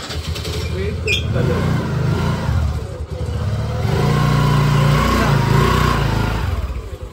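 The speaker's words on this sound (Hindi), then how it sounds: "अभी बाइक से जाएंगे" A motorbike engine starts and revs outdoors at a home, its rough throbbing note rising and falling nearby while voices talk over it.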